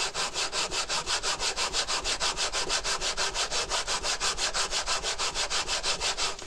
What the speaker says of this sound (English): so we'll just sand that real quick